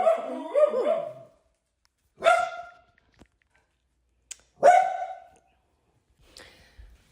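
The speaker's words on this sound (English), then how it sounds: "Well, you may have heard the dogs." Dogs barking in a few loud, separate bursts spaced a couple of seconds apart, the first a longer run of yips and whines, then quieter yaps trailing off, with no talk.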